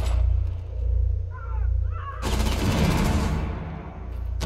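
Gunfire in Rainbow Six Siege at Hereford Base, a loud sustained burst of rapid shots cutting in midway after a low humming stretch with faint chirps.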